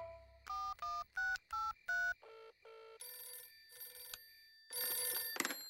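A cartoon telephone dials with a quick series of beeping tones and then rings with a bright trilling bell, loud and alone with no voices.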